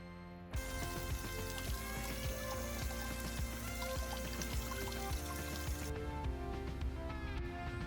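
Water pours continuously into a container of quenching water in a metal-cleaning workspace, a steady splashing stream that runs for several seconds at moderate level, with no talk.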